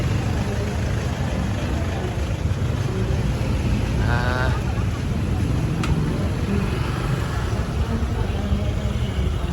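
Cars sit in an evening traffic jam on the way to a concert stage, a dense, steady engine rumble with constant broadband noise throughout and a brief faint horn-like tone midway.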